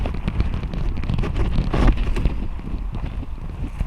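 Strong wind gusting against a tarp shelter on open plains, a steady loud broadband roar with a stronger buffeting surge midway and constant flapping rumble, no voices.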